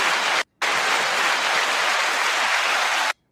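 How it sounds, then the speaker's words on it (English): Loud, dense applause from many hands fills the clip, briefly cut off once near the start and then resuming evenly until it stops abruptly. "9-second applause to you all"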